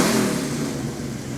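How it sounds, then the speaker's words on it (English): An old Ford Mustang engine revs loudly up close for a moment, a rough mid-pitched roar that stays strong and steady before easing slightly, heard at an outdoor holiday parade with no voices over it. "Whenever I hear that engine rev"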